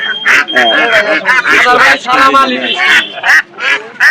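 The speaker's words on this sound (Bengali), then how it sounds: "প্রচুর হাঁস হাটে" Many native ducks quack loudly and continuously at close range in a poultry market, a busy overlapping chorus with other voices mixed in.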